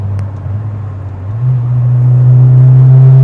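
A Mk3 Ford Fiesta with an 1800 engine drones from inside the cabin while driving, a loud low steady hum that rises slightly in pitch and swells as the car pulls along.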